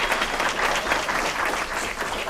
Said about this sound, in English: if we could just give it up for a round of applause for their hard work